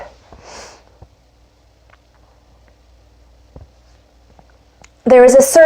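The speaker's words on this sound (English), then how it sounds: "Excuse my sniffles." A couple of faint, quick sniffles through the nose in a quiet room, followed by a loud burst of speech near the end.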